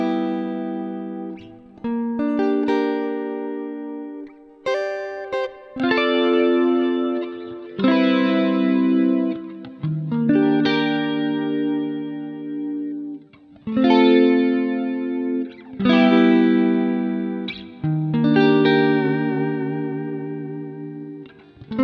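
Electric guitar played through a Nembrini Jazz Clean amp plugin with chorus and effects, a clean sustained chord and melody passage that rings on continuously, with strong harmonics and phrases restarting every few seconds, with no talking.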